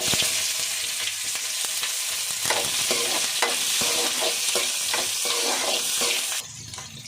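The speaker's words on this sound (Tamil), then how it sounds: "எண்ணெய் சேர்த்துக்கலாங்க கடுகு உளுந்தப்பருப்பு சேர்த்துக்கலாங்க வெங்காயம் சேர்த்துக்கலாங்க" Mustard seeds, urad dal and onion fry in hot oil for a cauliflower poriyal, a loud steady sizzle with repeated scraping stirs throughout, easing off slightly near the end.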